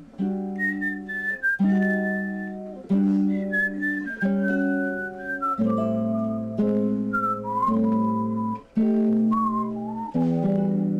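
Someone whistles a simple melodic phrase over chords, clear high notes gliding and stepping downward above sustained harmony in short repeated phrases.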